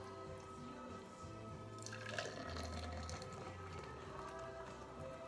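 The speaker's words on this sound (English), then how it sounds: "We're going to take some soda water, pour this in" Soda water poured into a Ramos Gin Fizz cocktail gives a steady, soft liquid trickle and fizz, quiet and close, with no talking.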